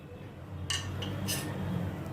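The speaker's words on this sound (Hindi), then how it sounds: "इन सभी को अच्छी तरह से मैं मिक्स करती हूँ।" Spoon scraping and clinking against a bowl while boiled egg pieces are mixed with black pepper and black salt, two or three short bright clinks over a low steady background hum.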